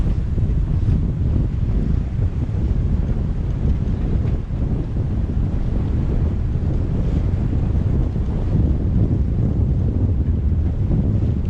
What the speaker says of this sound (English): It's still windy, it's not as windy as it was through that acceleration zone